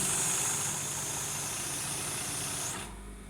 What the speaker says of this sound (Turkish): O yüzden makinamız yavaş dikiyor.